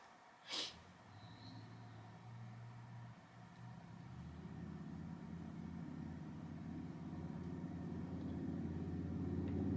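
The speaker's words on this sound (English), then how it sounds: "you gotta drive by with your loud car" A loud car passes by, its low engine rumble building steadily and growing nearer toward the end, following a brief sharp noise near the start.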